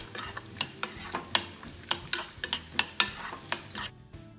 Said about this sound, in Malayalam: ഈ 4 teaspoon നെയ്യിലേക്ക് തേങ്ങാക്കൊത്തുകൾ ഇട്ടിട്ട് നന്നായിട്ട് ഫ്രൈ ചെയ്ത് മാറ്റി വെക്കുക.